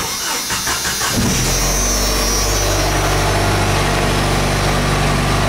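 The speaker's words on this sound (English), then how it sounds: "I'm going to start the engine up." A Jeep engine cranks briefly, then fires and settles into a loud, steady rumbling idle with no talking.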